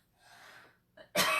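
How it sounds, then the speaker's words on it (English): A person coughs during a papercraft session making a cow-themed wreath insert, a soft throaty rasp followed after a pause by a short burst and then a loud, harsh cough close by. "I've been coughing all day."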